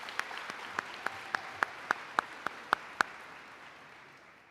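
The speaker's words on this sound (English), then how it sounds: "Let's give these students a big round of applause for their academic effort" Sparse, faint applause from a small audience at a 2021 middle school promotion ceremony honoring students, about a dozen distinct claps spaced across a few seconds in a quiet room, fading out at the end.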